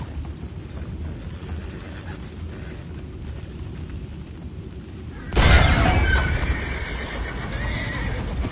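In Red Dead Redemption 2, after a low ambient rumble, a loud horse whinny bursts out, followed by further neighing and snorts over a continuing background din.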